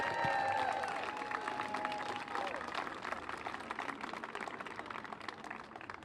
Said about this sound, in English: So the first applause tonight should be for yourselves.